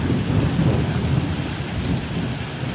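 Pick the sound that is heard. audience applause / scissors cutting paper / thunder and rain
thunder and rain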